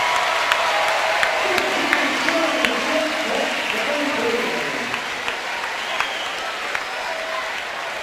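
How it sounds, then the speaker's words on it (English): A volleyball crowd rises in a standing ovation, sustained applause with scattered cheers and whoops filling the arena at a loud, steady level. "Standing ovation from this crowd, absolutely deservedly so."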